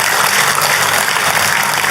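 Loud, continuous applause from a large church congregation during a sermon, dense and even throughout.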